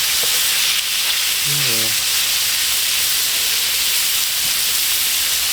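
A small, cheap butane camping stove roars with a steady, loud broadband hiss while food sizzles in the pan, continuous throughout, with a brief spoken word near the start.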